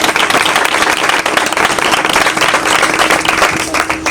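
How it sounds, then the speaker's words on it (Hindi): A church congregation at a women's prayer meeting claps loudly and vigorously. The dense, close applause runs without a break for several seconds. "खुदा के जलाल के लिए जोरदार तालियां बजाएंगे।"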